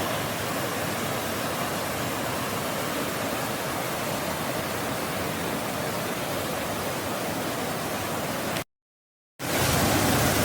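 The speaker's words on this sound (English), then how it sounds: "I don't know if you can tell just how fast this water is moving down through here" Fast-moving water rushes down a waterfall in Transylvania County, North Carolina, a loud, steady, broadband roar that cuts out briefly near the end before resuming.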